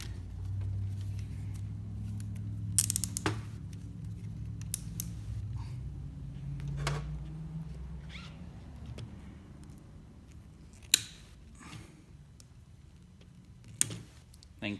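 Scissors or a blade snip the end off air pump tubing during an Inject-O-Meter air pump swap, a few sharp clicks and creaks spread across a quiet stretch of handling noise.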